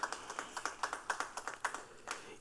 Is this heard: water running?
no